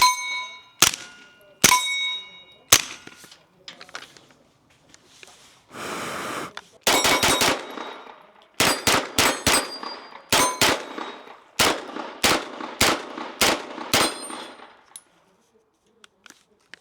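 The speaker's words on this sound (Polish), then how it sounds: "strzałem w blachę, gdzie ta blacha będzie dużo głośniejsza, nawet niż strzał" Sharp gunshots ring out one after another, several landing with bright metallic clangs and pings of bullets striking a steel plate, in irregular bursts with pauses between; suppressed subsonic and supersonic rounds.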